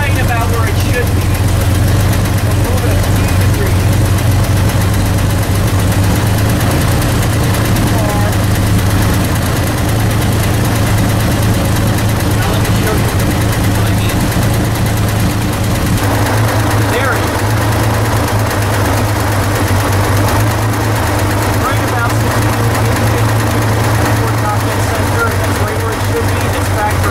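A 1965 Chevrolet Corvair engine idles after its ignition timing has been set, a steady low rumble with a faint vibration running throughout, a slight shift in tone partway through, and a voice talking over it.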